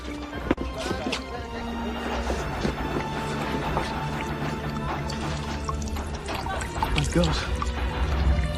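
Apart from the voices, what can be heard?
water flooding into ship rooms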